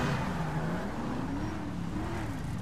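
Luxury car driving in Grand Theft Auto V, a steady engine drone with rising and falling pitch as it accelerates, continuous and fairly loud without talk.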